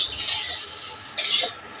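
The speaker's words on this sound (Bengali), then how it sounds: "আলুগুলো আমরা এবার ভেজে তুলে নেব।" Potatoes frying in a pan, cooked ahead of a Bengali bhetki fish curry, with two short bursts of stirring and sizzle over a low background hiss.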